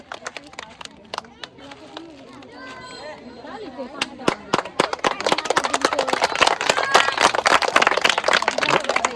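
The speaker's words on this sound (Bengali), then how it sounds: "সবাই জোরে হাততালি" An audience at a game challenge prize giving claps loudly for the winner, the applause building from scattered claps to a dense, steady burst of many hands, with voices talking over it.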